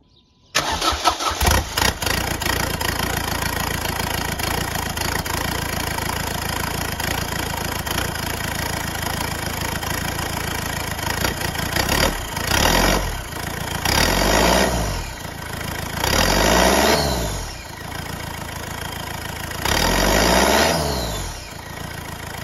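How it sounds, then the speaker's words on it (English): A Ford Fiesta Mk6 TDCi diesel with its exhaust removed cranks and fires, then settles into a loud, raw, rattly idle close to the microphone, with a few sharp blips of revving rising and falling near the end. "the exhaust is off, so it would be rude not to have a little start-up"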